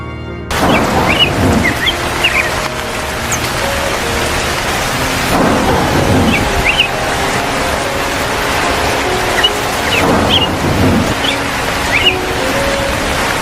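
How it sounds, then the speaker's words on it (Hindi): A cartoon rainstorm, with steady heavy rain falling throughout and several deep thunder rumbles rolling in at intervals, plus a few faint bird chirps above it. "अरे ये तो बारिश हुई है, लगता है रात भर जमकर बारिश हुई है।"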